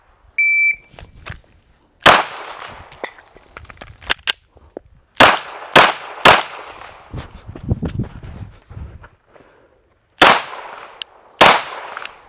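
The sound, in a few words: Glock 17 Gen 5 pistol shots at a target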